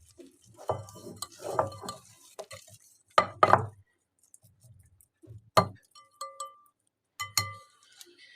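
A spatula stirs flour into a simple three-ingredient biscuit dough in a bowl, giving scattered bursts of scraping and light clinks against the bowl, separated by short pauses.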